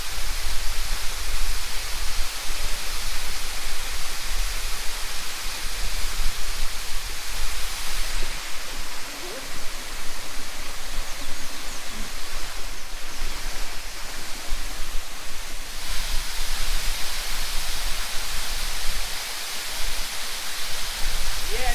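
Cascade Waterfalls in the Blue Mountains of Jamaica pour with a steady, loud, broadband rush of falling water that holds constant throughout, with no voices standing out.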